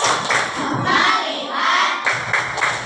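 Rhythmic group clapping from the 'tepuk fokus' ice-breaking clap game in a classroom, bursts of claps mixed with chanting voices.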